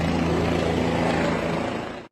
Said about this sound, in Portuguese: Eles conseguiram baixar o helicóptero